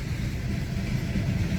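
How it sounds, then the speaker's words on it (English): A train rumbles past beneath a bridge on a road trip toward Lake Baikal near Khabarovsk, a steady, loud low rolling drone with faint rail clatter, heard nearby without talk. "There's a train going by."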